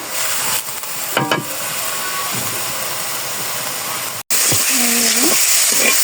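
Greens fry in a pan and are stirred with a wooden stick: a loud, continuous sizzle with scraping stirs, a short cut near the end, and brief bits of voice over it.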